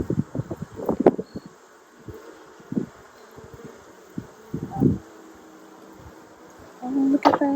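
Honey bees at a hive in Tennessee, with short buzzing bursts from individual bees passing close to the microphone, scattered irregularly against a quiet background.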